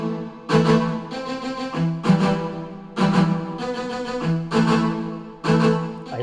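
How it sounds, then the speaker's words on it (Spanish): Triton synthesizer violin strings playing a loud, sustained chord progression in a reggaeton beat, with rhythmic stabs returning roughly every one and a half seconds and no voices. "Aquí comenzamos con unos violines del tritón y así es que suenan cuando comienza el coro."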